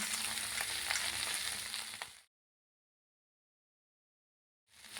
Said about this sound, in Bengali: একটুখানি সয়া সস দিয়ে দিলাম। এবার এগুলোকে খুব ভালো করে একটু ভেজে নিচ্ছি।